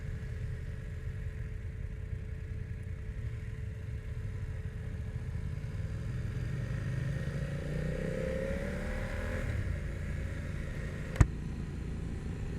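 A 2021 BMW F 900 R motorcycle engine running and being revved higher, a low steady drone that climbs gradually in pitch toward the middle before settling, heard close with one sharp click near the end.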